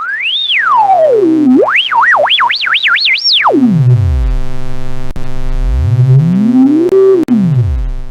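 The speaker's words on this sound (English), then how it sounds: "that gives you a nice kind of screechy kind of sound as we dial some of that in and out" A resonant synth tone from a Korg iMS-20 app sweeps its filter up and down in pitch, wobbling and squealing at the top before diving low, loud and screechy.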